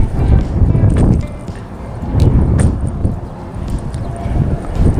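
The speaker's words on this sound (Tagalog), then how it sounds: "Gawa nga ng salubungang hangin." A strong headwind buffets the microphone at sea during fishing-net casting, a loud, low, rumbling roar that swells and eases in gusts throughout, close and constant.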